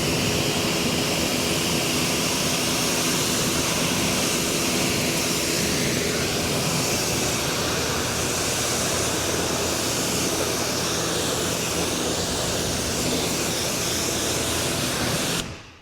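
Pressure-washer water spray rinses a car's upper surfaces during a bug-removal test, a loud, steady broadband hiss running without a break until it cuts off at the end.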